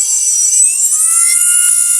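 A BLDC motor driven at 3 A on a test driver circuit for a homemade mini turbo blower whines steadily with high, slowly rising tones, loud and continuous throughout with no talking.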